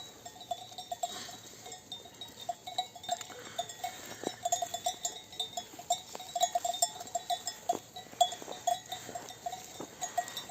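Sheep graze in a clover field with cowbells clinking irregularly among them, light scattered tinkles and soft rustling close by, with no voices.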